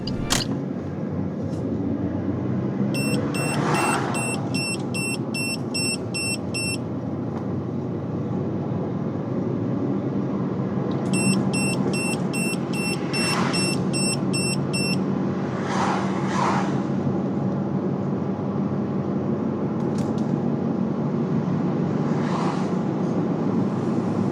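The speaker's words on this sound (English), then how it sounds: "this is how the multiple speed alarm feature of the C7B works" A C7B head-up display's speed alarm buzzer inside a moving car, beeping in two rapid clusters of short electronic tones over a steady road and engine drone, with a few fainter chirps later.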